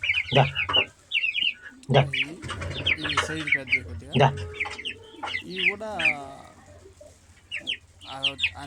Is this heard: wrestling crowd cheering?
no